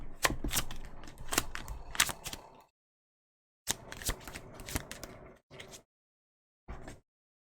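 Tarot cards are shuffled close up in rapid riffling bursts, two longer runs and a few short flicks separated by brief silences.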